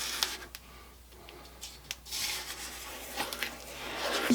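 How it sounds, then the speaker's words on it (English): A spatula scrapes the sides and bottom of a mixing bowl of lemon cranberry pound cake batter, giving soft, faint rubbing strokes in short irregular bursts, close by. "I'm going to scrape the sides here real quick."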